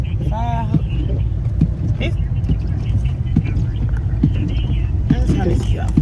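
A parked car's engine left idling while low on gas during a blizzard, a steady low rumble running underneath the whole stretch with people talking and moving about over it.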